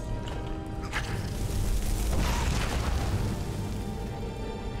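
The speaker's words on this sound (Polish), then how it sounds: "Nie wiem, ile to konkretnie bije ta eksplozja" A muffled explosion booms partway through in the video game Skyrim, swelling out of a dense, steady background din of game sound and then fading back into it.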